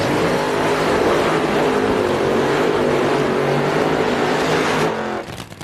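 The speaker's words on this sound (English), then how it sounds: "Side by side will be John Force and Casey Spurlock. Let's watch the burnouts." Side-by-side Funny Car burnouts at the 1995 NHRA US Nationals, John Force and Casey Spurlock's engines blaring in a loud sustained roar that holds steady for about five seconds before cutting off abruptly.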